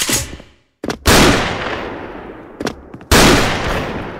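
An M82 Barrett sniper rifle fires in the online shooter Special Force, with two loud, booming shots spaced a couple of seconds apart, each followed by a long, rumbling echoing tail.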